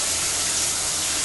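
Water sprays steadily from a newly repaired shower head that previously leaked, a dense, even hiss filling the whole moment without a break or any talking.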